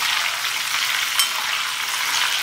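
Raw banana pieces frying in a pan after salt water is added, giving a steady, dense, close sizzle with faint stirring.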